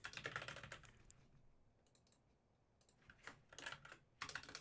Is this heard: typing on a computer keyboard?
yes